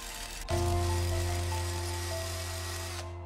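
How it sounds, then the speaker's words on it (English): A power drill with a 6 mm bit starts abruptly and runs with a steady, loud motor whine, bores through a marked spot for about two and a half seconds, then stops. "Drill the mark using drill bit 6 mm."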